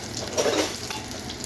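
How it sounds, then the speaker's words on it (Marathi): Garlic cloves and ginger sautéing in a pan for cauliflower bhaji, a steady close sizzle with a brief stir near the middle. "चांगले परतून घेऊया."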